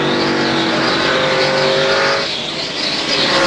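NASCAR stock cars roar past at the 2002 Checker Auto Parts 500, a loud sustained engine drone with a brief dip as the pack passes, then rising again.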